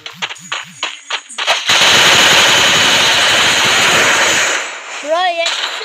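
Automatic gunfire in a shooting video game with a headshot, arriving as a sustained loud burst of fire after a few short sharp shots and speech-like sounds, then tapering off.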